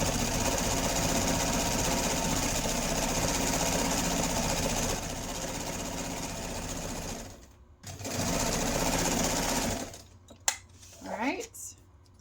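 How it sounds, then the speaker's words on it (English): Sewing machine chain stitching fabric pieces for chair cushions, a steady close mechanical whir running nonstop for about seven seconds, briefly pausing, resuming, then stopping before a few light clicks and handling sounds. "I'm just chain stitching, which means I don't cut my thread in between pieces"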